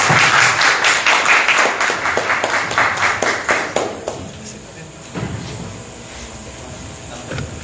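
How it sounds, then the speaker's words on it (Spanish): Audience applause after a book presentation on nineteenth-century school textbooks, with dense, loud clapping for the first few seconds that thins out and fades to a quieter murmur of scattered claps. "Aplausos nuevamente, por favor,"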